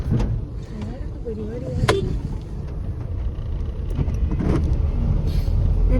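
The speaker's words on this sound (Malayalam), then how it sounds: "തോരെ കാറുകളൊക്കെ വരുന്നുണ്ട്." Cars pass on a road near a waterfall area in rain, a steady near road rumble with a vehicle swelling by, over constant background noise, while someone talks.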